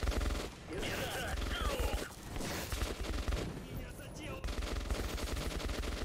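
Sustained automatic gunfire in Metro 2033 Redux, dense rattling bursts filling the whole stretch with brief dips, loud and close, mixed with game noise and shouting.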